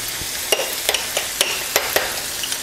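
Garlic powder is stirred into butter in a pan for a creamy shrimp Alfredo, with a steady bright sizzle under repeated sharp spatula clicks and scrapes against the pan, close up and without talk.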